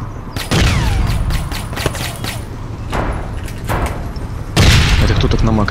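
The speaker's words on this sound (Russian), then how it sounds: "Это кто так на макросе там стреляет?" Rapid bursts of video-game gunfire from a macro-driven weapon in a multiplayer shooter match, loud sharp volleys repeating throughout with brief gaps, heaviest at the start and end.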